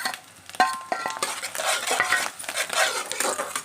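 Onions and carrots with chillies frying in a pan for street-style egg fried rice, a loud close sizzle with busy scraping and clattering of a metal spatula against the pan throughout, no speech.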